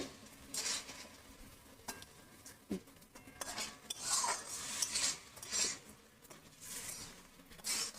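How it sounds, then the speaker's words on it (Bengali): Jackfruit and prawn curry stirred in a pan with a splash of water over medium gas, giving repeated scraping and clinking strokes of a utensil against the metal with a soft sizzle underneath, close and steady for the whole stretch. "অল্প অল্প জল দিয়ে একটু নাড়তে থাকবো জল দিয়ে করতে থাকবো এইভাবে"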